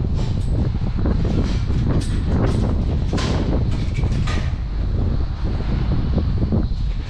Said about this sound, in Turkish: Şu an çok aşırı rüzgar var.